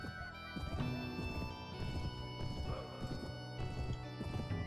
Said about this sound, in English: I've got a horse.